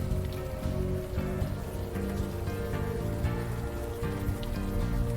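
Rain falls steadily in the video game Unavowed, a dense, even patter of drops on surfaces that continues throughout with no voices over it.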